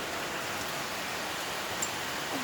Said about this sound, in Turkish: Vallahi hayatımda böyle yağmur görmedim.